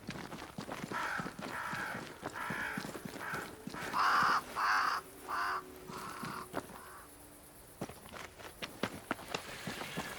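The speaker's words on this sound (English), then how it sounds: "Crows." Crows in the video game Banishers: Ghosts of New Eden give several loud, harsh caws in a quick cluster midway, over soft footsteps on the ground and a quiet outdoor background.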